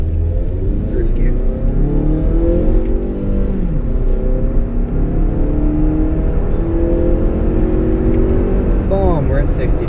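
A 2016 Mazda 3 GT with a 2.5 liter engine accelerates hard from a standstill to 60 in first gear, its engine note climbing steadily and loudly through the revs as someone talks over it.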